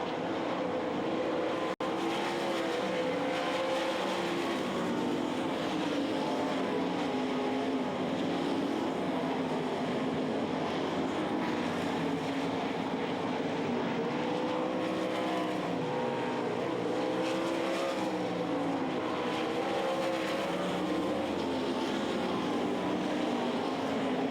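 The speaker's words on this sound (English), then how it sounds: "Best race on the track is for that 2nd spot as Little still on the bottom, Taze" Sprint race cars racing at the Knoxville Nationals dirt track, a dense continuous roar of engines held at steady loudness throughout, heard from the stands as a distant field rather than one car passing.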